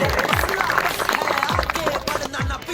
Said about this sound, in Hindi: सारे जोरदार तालियों के साथ रफीक साहब का भी इस मौके पर स्वागत करें।